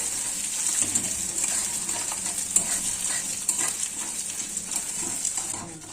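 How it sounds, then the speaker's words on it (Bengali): Mung dal frying in a pan sizzles with a steady, close, bright hiss, with soft stirring clicks and scrapes scattered through it and no voices. "মুগের ডালটা একটু ভাজা ভাজা হয়ে যাবে।"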